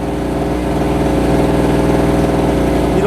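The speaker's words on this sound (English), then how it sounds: "I have the small generator turned on right now, not the large one" A small portable generator runs steadily at close range, a loud, even mid-pitched engine drone with a slight pulsing throb and no change in speed.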